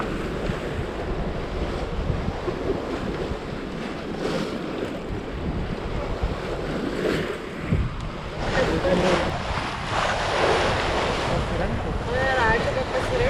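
Sea waves wash steadily onshore, mixed with gusty wind buffeting the microphone, a broad continuous roar with surges toward the end and faint voices in the background.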